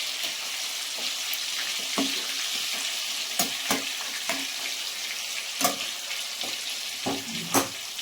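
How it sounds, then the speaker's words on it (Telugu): Chicken leg pieces sizzle in a pan of hot oil with a steady, close crackling hiss, punctuated by sharp clicks and scrapes as the pieces are turned over. "ఇప్పుడైతే ఒక సైడ్ బాగా వేగిందండి, ఇంకో సైడ్ తిరగేసుకుందాం"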